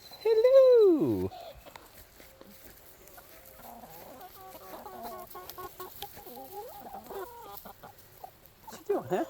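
Free-range chickens cluck, with one loud rooster-like call at the start and then scattered, softer clucks and chatter close by, while a person talks and calls to the flock.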